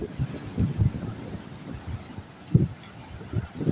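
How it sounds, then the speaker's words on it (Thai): Strong wind gusts buffet the microphone at an outdoor fishing camp, making uneven low rumbling bursts that rise and fall against a steady background rush. "ก็ลมค่อนข้างแรงพอสมควรนะครับ วันนี้"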